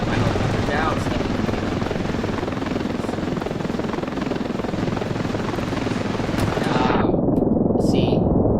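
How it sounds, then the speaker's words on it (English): A helicopter in the Ravenfield video game sets down with a loud, steady rotor roar and engine noise throughout, the sound thinning abruptly near the end; a voice talks over it. "now I'm going to set my helicopter down"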